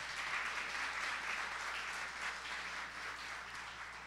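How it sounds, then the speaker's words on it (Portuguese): A church congregation claps steadily throughout, a dense even wash of applause heard from within a large room during a family celebration service. "Podem aplaudir se desejarem."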